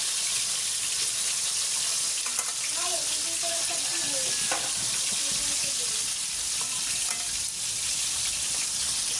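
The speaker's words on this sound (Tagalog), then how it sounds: "So, nagpiprito ako." Fish frying in oil in a pan, a continuous dense sizzle and crackle at an even level throughout, with faint background clatter and a voice murmuring underneath.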